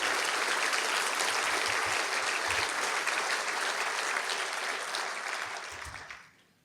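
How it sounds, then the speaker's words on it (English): Audience at a county government address applauding, a dense, sustained wash of clapping that holds steady and then fades out toward the end. "I ask you to give an applause to Pam Lewis"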